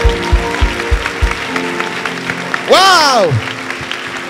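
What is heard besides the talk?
congregation applauding in church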